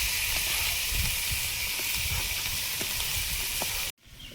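Chili powder, onion, tomato and green chili sizzling in hot oil, a loud continuous hiss and crackle that cuts off abruptly near the end.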